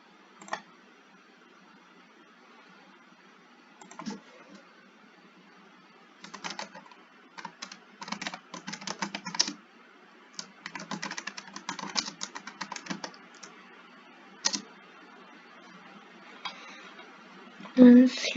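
Computer keyboard typing, recorded while working in a WordPress editor with an SEO plugin, comes in scattered short bursts of clicks with pauses between them, light and close-miked over a quiet background.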